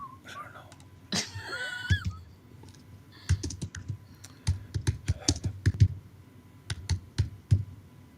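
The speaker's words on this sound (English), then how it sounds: "I hammer on my keyboard. Yeah. And it's a membrane keyboard too." Keys on a membrane computer keyboard are hammered in irregular bursts of close, dull clacks, with a brief voice and a cat-like sound early on.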